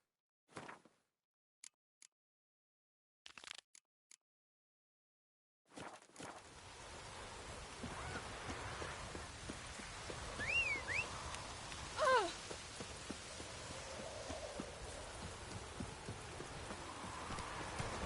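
Steady rain falls in a PS4 video game, a dense continuous hiss that starts abruptly after a few brief isolated sounds and holds at an even level, with a couple of faint chirps briefly standing out.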